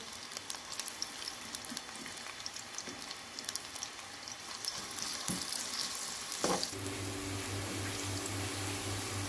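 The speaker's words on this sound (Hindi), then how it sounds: "अब देखिए हमारा प्याज ब्राउन होने लगा है" Onions browning in oil in a frying pan, a steady close sizzle with scattered crackles and pops, then a low hum from the stove joins after a stirring clunk.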